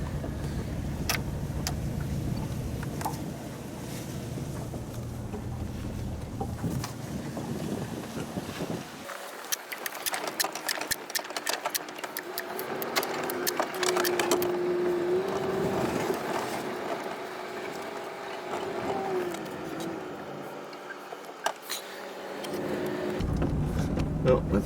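A car drives along a road, its engine and tyre rumble steady with wind buffeting the microphone and scattered clicks and knocks, continuous and fairly near.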